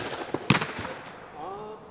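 A football kicked hard during a goal-scoring challenge: a soft tap, then one sharp loud thud, with faint voices around it.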